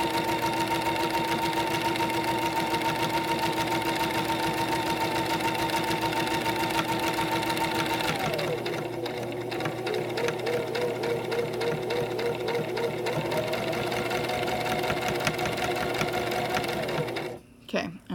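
A sewing machine stitches a fabric lanyard with a steady, close, fast whirring hum that shifts pitch midway and then stops near the end.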